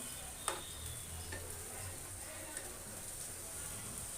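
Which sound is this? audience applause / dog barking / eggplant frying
eggplant frying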